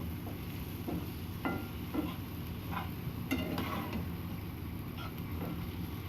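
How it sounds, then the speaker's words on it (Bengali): Potato and pointed gourd fry in a pan, a steady low sizzle broken by a few short scraping knocks as they are stirred, close and fairly quiet, with no talking. "এই 1-2 মিনিট ভেজে একটু নাড়াচাড়া করে তারপর এটাকে ঝোল দিয়ে দেব"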